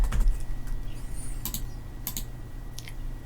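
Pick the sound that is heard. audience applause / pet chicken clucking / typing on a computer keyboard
typing on a computer keyboard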